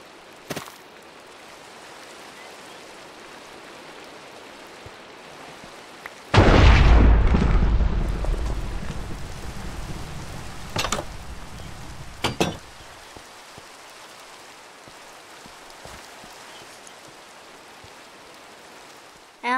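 A loud thunderclap in Minecraft rolls in and rumbles for several seconds over steady rainfall, followed by a few sharp cracks and then continued rain.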